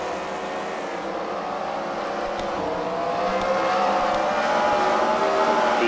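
Race cars, including wrecker cars, lapping an oval track, a steady continuous engine drone heard from a distance that swells slightly louder toward the end, with no voices.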